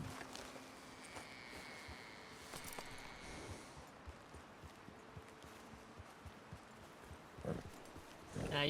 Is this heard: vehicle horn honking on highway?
no